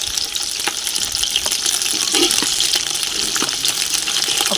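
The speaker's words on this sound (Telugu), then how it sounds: "ఒక పెనంలో ఆయిల్ వేసుకొని" Steady, hissing rush of oil going into a pan on the stove for sambar, continuous and fairly close, with a few faint clinks in the background.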